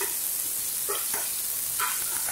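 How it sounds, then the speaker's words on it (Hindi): Finely chopped curry leaves and a green chili sizzle in hot oil for a Rajasthani mangodi curry, a steady loud frying hiss with a few brief stirring clinks. "थोड़ा सा फ्राई कर लेते हैं।"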